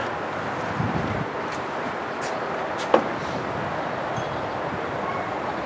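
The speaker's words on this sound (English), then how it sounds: "The wind's blowing, that's what makes it cold" Cold wind blowing outdoors on a sunny day beside a parked 2018 Chevy Colorado, a steady broadband rush with gusty swells and one brief knock midway, no speech.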